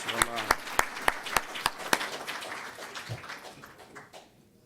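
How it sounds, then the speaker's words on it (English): Applause at a religious lecture, a handful of loud, distinct claps in a quick irregular rhythm from nearby hands, fading into a softer scattered patter before dying away to near silence. "Let's give Brother Taqwa another warm round of applause"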